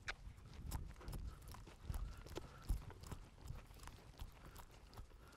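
Horse hooves clip-clopping at a steady walking rhythm over cavaletti poles in a horse training session, with irregular louder knocks, close and clear, with no talk.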